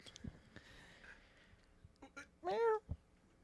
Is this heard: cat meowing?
yes